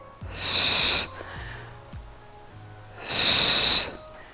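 Two forceful, breathy exhales during an exercise workout, each lasting under a second and a few seconds apart, close and loud with faint soft noises between them.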